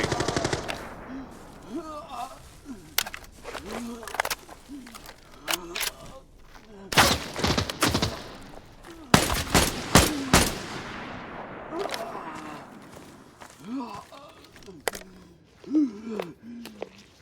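Gunfire in the shooter Arena Breakout: Infinite arrives as scattered single shots and dense automatic bursts, the loudest volleys clustered in the middle, with a voice talking intermittently between them.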